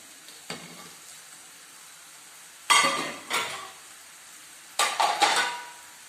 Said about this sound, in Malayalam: ഈ പൊട്ടാറ്റോ കൂടെ നമുക്ക് ഇതിലേക്ക് ഇട്ട് കൊടുക്കാം.